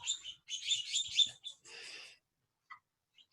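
Birds chirping outdoors, bursts of high tweets in the first two seconds, then a few scattered, fainter calls after a pause.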